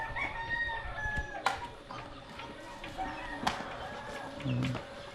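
Chickens on a farm where animals have been dying of disease, with a rooster's crow and scattered clucks over steady rustling background noise at moderate distance.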